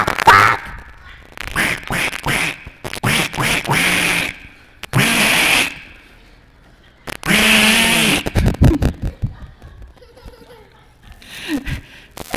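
A person's voice imitates a duck quacking loudly during storytelling at a Sunday worship service, giving a series of nasal quack bursts separated by pauses and mixed with laughter.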